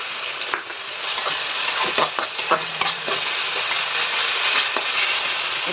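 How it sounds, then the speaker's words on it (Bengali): Chopped tomato with salt frying in a pan, a steady close sizzle with soft stirring scrapes and small crackles throughout, no talking. "এটা ভাজতে থাকুন।"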